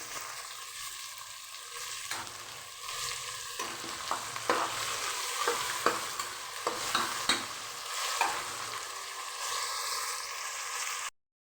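Mixed vegetables for a home-style vegetable biryani sizzle in a pan with sautéed onions, while a spoon stirs and scrapes in repeated sharp strokes over a constant frying hiss that cuts off abruptly at the end.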